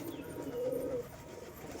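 Released pigeons give a single soft, low coo rising briefly out of quiet outdoor background noise.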